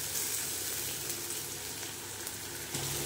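Poppy seeds and dry red chilies fry in a pan, a close, steady crackling sizzle throughout.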